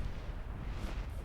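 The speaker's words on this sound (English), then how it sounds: "Renwood is getting bombed by these mortars." Mortar bombardment in a Myth II Soulblighter free-for-all tournament match: a continuous low, rumbling roar of blasts, dense and muffled, with no clear gaps between impacts.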